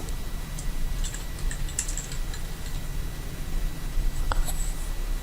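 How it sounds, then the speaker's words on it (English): Computer keyboard typing, quiet and close: soft scattered keystroke clicks tapping at an uneven pace for several seconds over a low background hum, with no voices. "So I'm just going to type the title here."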